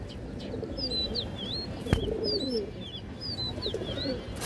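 A large female full-down-shape pigeon and others at a pigeon seller's coop coo in low rolling calls, with high chirps from other birds and one sharp click midway.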